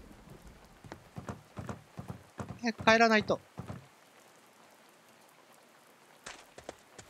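Rain falls in the video game A Space for the Unbound as a steady, soft patter beneath a Japanese speaker talking, growing quieter and sparser after the voice stops.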